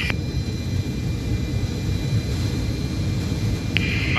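The jet engines of an Antonov An-74 roar through takeoff. The sound is a loud, steady rumble with a thin high whine, heard continuously from on board.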